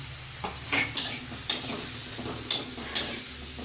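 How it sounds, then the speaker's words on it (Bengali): A spice paste stir-fried with pumpkin stalks and potatoes for a fish curry, quietly sizzling under intermittent scraping strokes of a spoon against the pan, close up. "ডাঁটা আর আলু দিয়ে মশলাটা কষাবো।"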